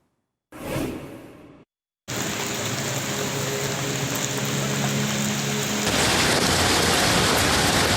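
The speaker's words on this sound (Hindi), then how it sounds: "अब भी मूसलाधार बारिश का सिलसिला" Torrential rain falls in Pakistan: after a brief rushing burst and a short silence, a dense, steady roar of heavy rain takes over, growing harsher near the end.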